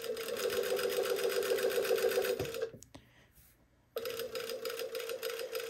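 A sewing machine stitching a curved rayon fabric waistband, a fast steady mechanical whir with a rhythmic needle chatter, close and loud, stopping briefly for about a second before running again.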